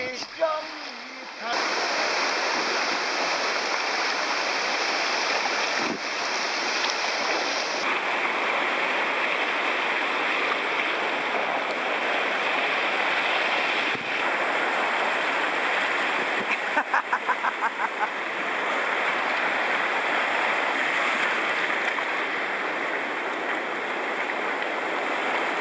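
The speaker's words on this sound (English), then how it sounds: "Lots of rapids." River rapids on an inner-tube trip down a large stream, a steady loud rush of churning water continuing throughout, with a brief clatter near the start and some faint voices underneath.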